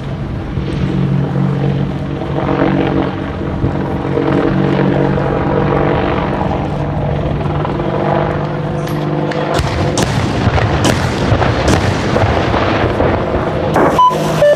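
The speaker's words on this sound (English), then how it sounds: "Gunship are now using a modified return to target to adopt a diving fire profile." A military gunship helicopter flies in a diving fire run, its rotor and engine a loud steady droning throb, joined later by sharp irregular bursts and thuds.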